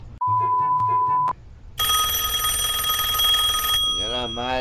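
Telephone ringing, with a repeating electronic ringtone of tonal bursts followed by a long bright sustained ring, close and loud, with a voice speaking briefly at the end.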